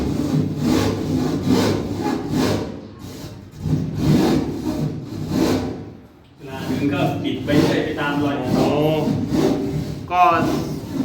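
Rhythmic back-and-forth rasping of a hand saw cutting through ceiling board to fit a downlight, close by, with a person talking over much of it.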